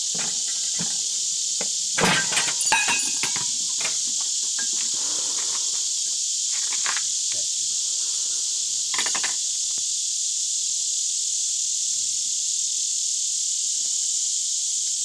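A chuck roast sizzles with a steady, bright hiss on a PK Grill, smoked and reverse seared. Clunks and scrapes come close by as the meat is turned, mostly around the second and ninth seconds, and no one talks.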